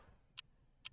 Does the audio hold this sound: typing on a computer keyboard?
no